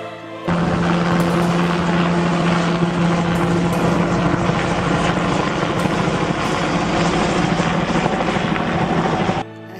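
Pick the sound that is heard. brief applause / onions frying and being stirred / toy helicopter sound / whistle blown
toy helicopter sound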